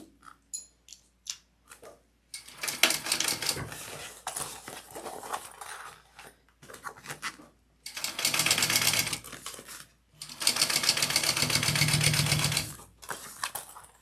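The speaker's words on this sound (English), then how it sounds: "now you're top stitching along this yellow piece here" A sewing machine top stitches through vinyl on a tote bag, running in several bursts of steady rapid needle chatter separated by short pauses and a few light clicks, close and clear with no talking.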